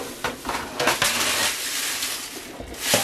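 A spoon stirs sticky rice crispy treat mixture in a pot, producing loud, steady crunching and scraping with occasional knocks against the pot.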